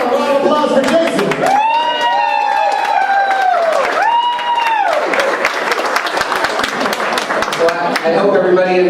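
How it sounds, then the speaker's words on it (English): Wedding guests break into loud applause and cheering for the groom, Jason, with enthusiastic clapping, whoops and shouted voices filling the room throughout. "Round of applause for Jason."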